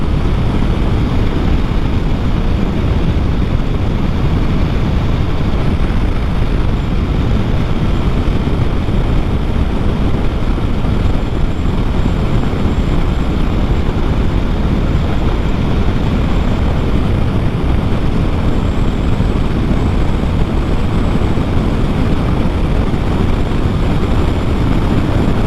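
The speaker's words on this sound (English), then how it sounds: "So nice just to give it a little bit of throttle" A motorcycle engine runs under throttle while riding, heard as a loud, continuous roar heavily blended with wind buffeting. The level stays steady throughout, with no talking.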